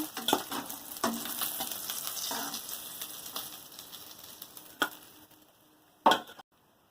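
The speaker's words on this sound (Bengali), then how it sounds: "আমি যে সরষে পাবদা রান্না করব, তার জন্য মাছগুলো প্রথমে আমি সব ভেজে নিয়েছি" Pabda fish fry in a pan of oil with a steady sizzle, punctuated by a few sharp clicks and utensil taps, before the sound fades out near the end.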